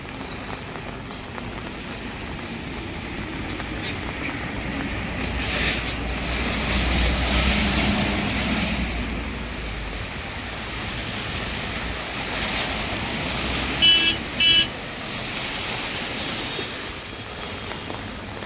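Floodwater rushing through a street during heavy monsoon rain in Vasai-Virar, a steady loud roaring wash of water and rain with gusty wind noise that swells in the middle, lasting throughout.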